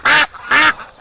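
A duck being caught and held by hand in winter gives two loud, harsh quacks close up, with a third starting at the very end and brief quiet gaps between calls.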